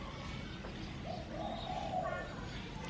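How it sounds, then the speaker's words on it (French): Soft cooing and a few short bird calls in the middle, fairly faint over a quiet outdoor background, in a peaceful small town in Thailand. "On n'entend que le bruit des oiseaux."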